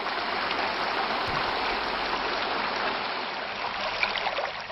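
Spring water flows through aqueduct channels, a loud, steady rushing and splashing wash that holds at an even level from start to finish with no voices.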